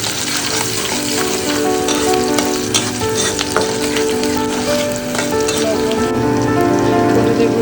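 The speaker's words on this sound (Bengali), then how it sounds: "এখানে আমি রসুন পেঁয়াজ আর কাঁচামরিচ দিয়ে দিচ্ছি ভাজির জন্য" Garlic, onion and green chilies fry loudly in a hot pan, giving a dense, steady sizzle close by with scattered crackles and stirring scrapes, without any talking.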